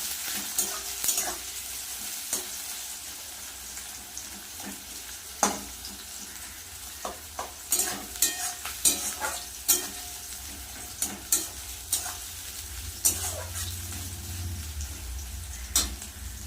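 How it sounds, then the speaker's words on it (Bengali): Sliced onion lightly frying in a pan, a soft, steady sizzle broken by irregular clinks and scrapes of a spatula against the pan, moderately quiet, with no voices. "পেঁয়াজটা একটু হালকা ভেজে নেবে"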